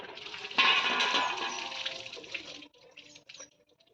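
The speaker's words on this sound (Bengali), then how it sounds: "তো চিকেনটা এখন ভালোভাবে ধুয়ে নেব।" Running water washing raw chicken for a Bengali village chicken curry, a short, fairly faint splash that tails off after a few seconds.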